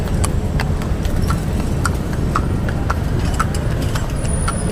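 Horse hooves clip-clop in a steady, repeated rhythm on a busy Manila street, with continuous traffic rumble underneath and no talk.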